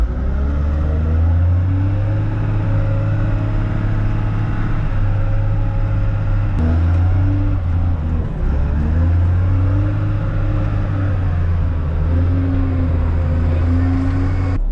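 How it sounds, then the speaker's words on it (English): A wheel loader engine rumbles steadily on a farm, loud and close, its deep drone dipping and recovering a couple of times as the load changes, with no talk over it. "He's in the wheel loader now."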